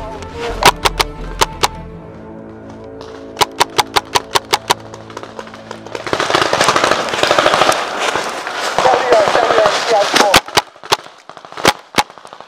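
Paintball markers firing during a woodland milsim paintball game: sharp single pops at first, then a dense rapid volley of shots over continuous noisy rustle, close and loud, with a few isolated pops at the end.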